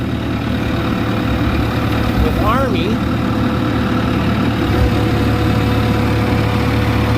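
A tractor engine idles steadily with a low, even rumble throughout, while someone talks over it.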